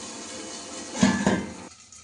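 A metal lid set down on a pot holding water gives one close clatter and a short rattle, then settles into quiet.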